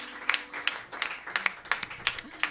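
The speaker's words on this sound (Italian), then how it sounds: "applauso" A small audience at a concert in Milan claps in scattered, distinct hand claps, fairly close and moderate in volume, with the hits landing in an uneven rhythm.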